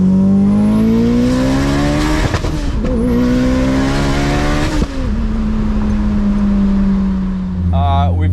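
750 hp Mitsubishi Evo X with a stock block and a bolt-in Cusco roll cage, its engine screaming up to high RPM as it accelerates hard, pitch climbing between shifts, loud and close with a brief tyre chirp.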